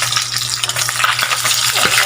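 Loud, steady sizzling of sweet potato leaves and eggplant frying in a pan, with crackles and occasional stirring scrapes, close up and continuous.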